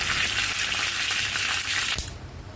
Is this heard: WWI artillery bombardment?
no